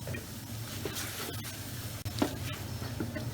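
Chopped tomatoes from a 400 gram can go into a chicken gumbo pot, giving a soft, steady sizzle with stirring scrapes and a few splashy thumps, fairly quiet and close.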